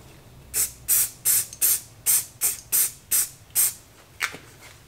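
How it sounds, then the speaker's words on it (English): Short hissing bursts of CA glue activator sprayed onto a turned cedar bowl, about nine quick evenly spaced puffs from a nearby aerosol, loud and clear with no talk over them. "I'm just going to hit it with a little bit of activator."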